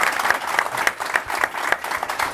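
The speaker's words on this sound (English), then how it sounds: "I want everyone to join me in a big round of applause for our excellent panelists." An audience applauds the panelists at a live panel event on AI and climate, a full round of clapping from many hands, steady and fairly close, with no talk over it.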